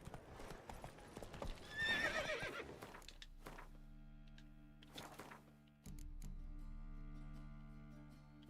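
Roach the horse in Witcher 3, hooves clip-clopping and a whinny early on, then scattered hoof thuds over a steady low game hum, all fairly quiet.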